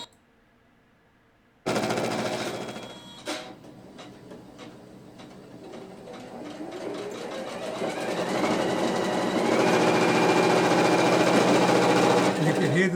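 A Janome Memory Craft 500e embroidery machine starts abruptly and runs at high speed, its rapid needle rhythm building into a steady mechanical whir that grows louder toward the end, with brief talk over it.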